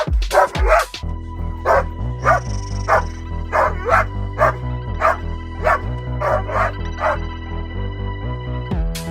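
Bandog guard dogs bark in steady repeated bursts, close and loud, during sleeve bite work, with a few yips between barks and no talking.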